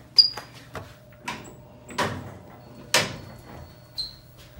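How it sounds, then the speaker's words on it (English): Otis hydraulic elevator doors at a hotel, the Clarion Inn in Grand Rapids, sliding with a series of separate clunks and squeaks. About six distinct knocks are spaced roughly a second apart, fairly close, with a faint hum between them. "Door is not cooperating."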